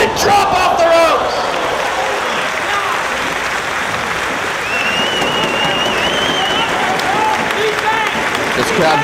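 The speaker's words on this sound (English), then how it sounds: "This crowd voicing their appreciation, this tearful crowd." Wrestling arena crowd cheering and applauding loudly and continuously, a dense roar of clapping and voices with scattered shouts, while a commentator talks over it.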